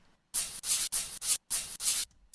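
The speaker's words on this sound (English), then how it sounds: "And now we got a shaker." A chopped shaker sample pitched up five half steps, with brightened high end, plays as a quick run of short hissy bursts in an uneven rhythm, six close hits before a brief gap.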